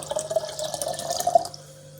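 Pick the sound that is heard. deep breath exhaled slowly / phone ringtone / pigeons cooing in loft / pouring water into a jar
pouring water into a jar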